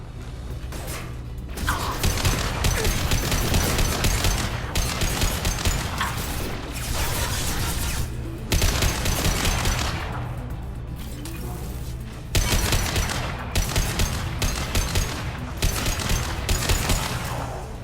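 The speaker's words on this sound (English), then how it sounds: "Firing a high-impact shot." Sustained gunfire from Mass Effect 2 during a combat sequence: dense, loud bursts of rapid shots layered over a constant rumble of game effects, with brief pauses between volleys.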